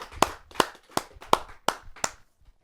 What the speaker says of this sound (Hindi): आइए जोरदार तालियों से उनका स्वागत करें